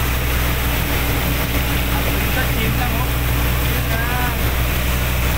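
A steady, droning boat engine runs continuously with wind and water noise, loud and close throughout, with faint voices mixed in.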